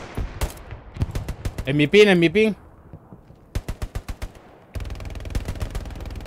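Rapid bursts of gunfire in the video game Hell Let Loose crack out in short volleys, mixed with someone talking over the shots.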